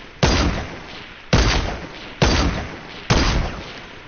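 Four loud, sharp sniper rifle shots in a video game, evenly spaced about a second apart, each a sudden crack trailing into a short fading echo, with nothing else heard.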